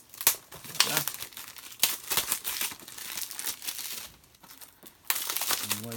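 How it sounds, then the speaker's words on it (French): Plastic and cardboard packaging of a Blu-ray box set crinkles and tears close up in irregular bursts as it is unwrapped, with pauses between handfuls. "On va déballer le coffret."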